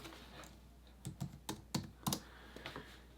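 Typing on a computer keyboard, a quick run of about a dozen soft key clicks at close range in a quiet room.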